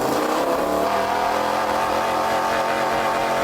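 Egg-shaped car with a 150-horsepower KTM engine, steel tube frame and oversized 46-inch wheels, driving with a steady, fairly loud buzzing engine drone that holds constant for a few seconds.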